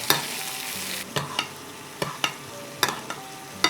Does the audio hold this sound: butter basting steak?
yes